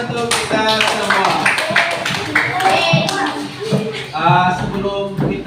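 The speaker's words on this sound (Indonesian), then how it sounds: "tepuk tangan untuk kita semua." A school class applauding together, scattered hand claps overlapping into a lively burst of clapping, mixed with children's voices chattering and a teacher's voice throughout.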